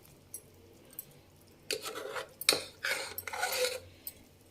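Cooked dal poured and stirred into sambar in a pot, with clinks of a metal ladle against the vessel and a few wet scraping and pouring bursts in the middle, close and fairly quiet.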